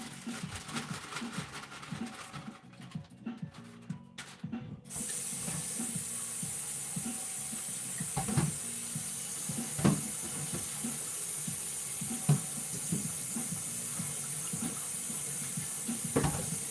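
Tap water runs into a kitchen sink to rinse broccoli, opening with brief handling sounds before a steady hiss of flowing water, broken by occasional splashes and clunks.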